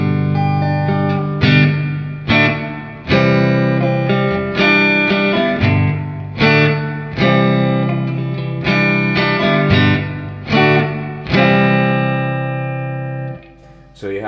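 Electric guitar played through a Fender Tre-verb reverb effect set loud: a series of strummed chords, each ringing out with a long, washy reverb tail. Close and prominent, with no talking over it.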